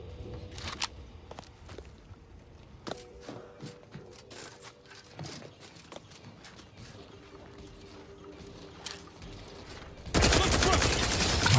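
Gunfire in the video game The Outer Worlds 2, scattered sharp shots and short bursts at varying distances, ending in a loud dense barrage of rapid fire.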